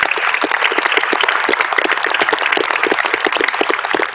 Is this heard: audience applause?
yes